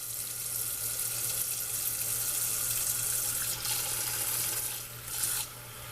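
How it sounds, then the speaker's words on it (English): Cold water streams steadily from a kitchen tap over boiled eggs in a bowl, a close, continuous splashing rush with slight shifts in flow near the end. "I'm just gonna run cold water over them for 2 minutes or so"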